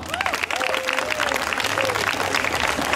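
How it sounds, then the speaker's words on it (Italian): Loud, sustained applause from a crowd at a children's motorcycle racing event in Misano Adriatico fills the whole stretch, with a voice rising briefly over the clapping. "Le facciamo un grande applauso."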